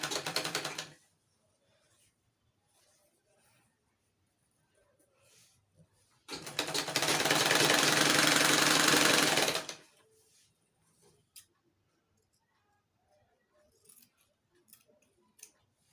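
A sewing machine joins fabric ruffle pieces in two bursts: a short run at the start, then a longer steady whirring stretch near the middle, with quiet gaps and faint fabric handling around them.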